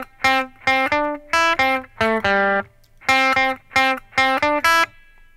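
An electric guitar with a distorted, effects-laden tone plays measures 15 to 17 of the Super Mario Bros. theme. Short, punchy notes come in clipped rhythmic bursts separated by brief rests, loud and close, with no talking.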